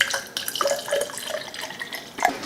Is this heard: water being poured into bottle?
yes